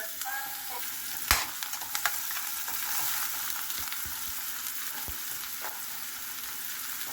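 Chopped onion and garlic sizzle in a hot pan while pork with luffa squash is being cooked, a steady frying hiss broken by a few sharp utensil knocks and scrapes as they are stirred.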